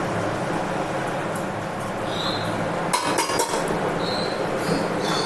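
A metal lid clinks onto a cooking pot in which prawns simmer with taro. Two or three sharp, close clatters stand out over a steady kitchen hiss.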